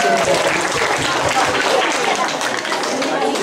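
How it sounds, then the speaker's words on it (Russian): Audience applause at a children's knight tournament held for Defender of the Fatherland Day, a dense, steady patter of many hands clapping that fills the hall for a few seconds. "Аплодисменты вашим ребятам."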